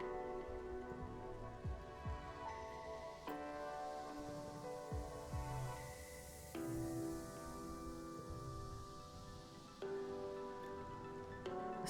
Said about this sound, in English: stretching out his hand to let raindrops patter against his palm